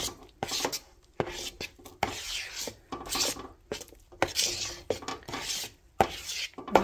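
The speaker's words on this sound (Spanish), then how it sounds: "ahora solo los voy a revolver" Blueberry pancake batter is stirred in a bowl, giving repeated scraping, rasping strokes in short bursts with brief pauses between them. The sound is close and clear, with no talking.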